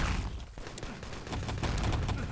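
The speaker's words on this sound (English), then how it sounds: "Lots of shots coming towards the guys on the top of the ladder" Gunfire in the video game Enemy Territory during a 6on6 LAN tournament match, a quick flurry of overlapping shots rattling at moderate distance against a dense game backdrop, fairly faint overall.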